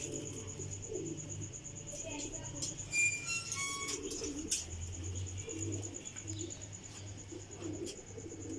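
Pigeons, a flying breed kept by a fancier, coo softly and repeatedly at close range in a loft with a low steady rumble, while a few brief chirps and clinks rise above the cooing.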